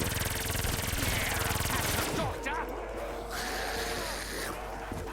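Rapid automatic weapon fire in Black Ops 3 zombies on The Giant map, a dense, continuous stream of shots that cuts off abruptly partway through, followed by quieter game sounds and a voice speaking.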